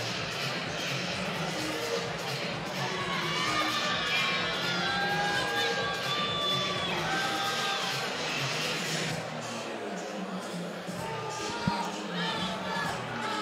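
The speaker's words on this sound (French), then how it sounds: "la foule qui apprécie sa performance" A boxing arena crowd cheers and murmurs in a broad, sustained roar, with scattered shouts and whistles rising through it, then fades down toward the end.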